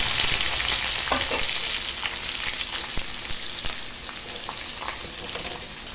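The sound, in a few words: onion pieces frying in tempering for potato curry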